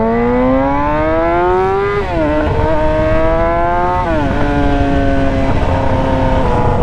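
Honda CBR 650 four-cylinder motorcycle engine revving loudly and continuously up close, pitch rising steadily then dipping briefly twice as it shifts and climbs again.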